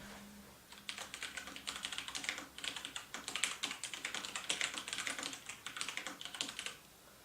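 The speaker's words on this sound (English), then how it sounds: "I'm just going to type out a quick string of text to indicate the sound that it makes" A Tt eSports MEKA G1 mechanical gaming keyboard being typed on at a steady pace, a close, continuous run of crisp clicking keystrokes forming a sentence, with no voice over it.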